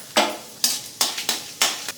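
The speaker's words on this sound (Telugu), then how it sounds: "శనగపప్పు వేసేసుకోవాలి, పోపుకి" Chana dal and mustard seeds fry in hot oil for tempering in a pan, a close sizzle broken by five sharp, rhythmic bursts of stirring scrapes.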